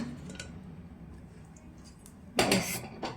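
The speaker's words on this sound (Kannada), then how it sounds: "ಇವಾಗ ಕುಕ್ಕರ್ನ ತೆಗಿಬೇಕು," A pressure cooker lid is lifted off after cooking vegetable biryani, giving a short metallic clatter and scrape near the end, with a softer clink just after, over quiet kitchen room tone.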